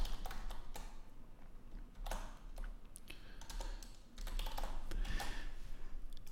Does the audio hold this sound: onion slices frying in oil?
no